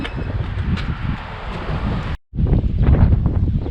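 Strong wind buffets the microphone on a beach, a loud, rumbling gusty roar that cuts out for a split second before resuming just as hard, with no talking.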